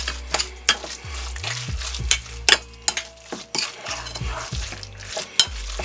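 A spoon mixes tuna salad with mayonnaise and black pepper in a bowl, making a run of close, irregular scraping and squelching strokes with sharp clinks against the bowl, with no voices.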